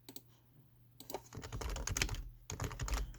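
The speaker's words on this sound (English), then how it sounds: "sorry if you can hear my typing" Computer keyboard typing at a desk, quiet bursts of rapid clicking keystrokes with short pauses between runs, close to the microphone.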